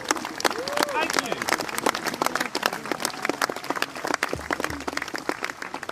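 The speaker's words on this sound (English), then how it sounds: "Please give yourselves all a round of applause just for being here, please." A conference audience applauds itself after being welcomed, a dense, steady clatter of many hands filling the whole stretch at a fairly loud level, with scattered voices mixed into the crowd noise.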